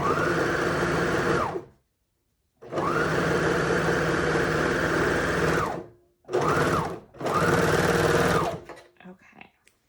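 Sewing machine stitching a garment around a final curve, running in several loud, steady whirring bursts separated by brief pauses, ending with a few soft clicks as it stops.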